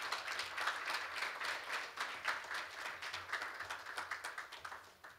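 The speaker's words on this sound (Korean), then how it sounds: "네, 역시 축하의 박수 부탁드립니다." An audience at a corporate anniversary management strategy forum claps in warm, sustained applause, a dense patter of many hands filling the room throughout, with no one talking over it.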